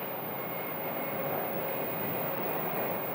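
An American Airlines jet rolls down the runway on landing at Phoenix Sky Harbor, a steady broad engine roar, distant but constant throughout.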